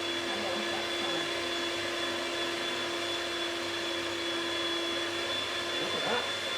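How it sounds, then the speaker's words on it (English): Electric mixer whisking meringue for a lemon meringue pie, a steady continuous whirring hum at close range with a constant motor whine; voices talk faintly under it. "Just get whisking"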